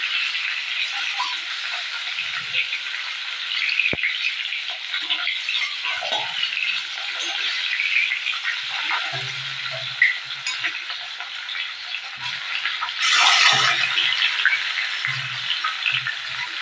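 Oil sizzles steadily in a wok where a fish head is frying over a gas flame, a continuous crackling hiss with a few soft clinks and a brief louder spurt partway through.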